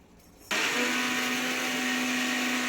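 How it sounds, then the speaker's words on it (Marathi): A mixer grinder whirs loudly as it grinds roasted oats into powder, starting abruptly after a brief quiet moment and running as a steady, close, high-pitched motor drone with a sustained tone. "हे ओट्स काढून घेतो मी मिक्सरच्या भांड्यामध्ये."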